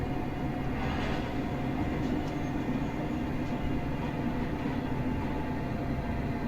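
Class 385 electric multiple unit in Train Simulator Classic, on the Glasgow Queen Street to Alloa route, rumbling steadily as it brakes: a continuous low rolling drone with faint squeal and hiss, no voices.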